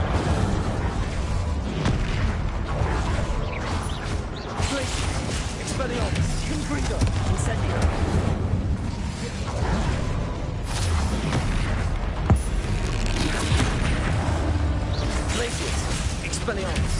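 Confringo and Incendio spell blasts from Hogwarts Legacy on PS5 burst repeatedly in a dense, loud barrage of booming impacts and crackling effects that continues throughout.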